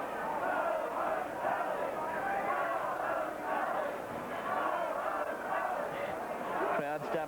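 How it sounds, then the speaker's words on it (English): Rugby league crowd at Lang Park during a 1982 prelim final between Wynnum-Manly and Valleys, a dense continuous roar of many voices chanting "Go home, Valleys" in rhythmic waves, steady and loud throughout. "Crowd starting to chant, "Go home, Valleys.""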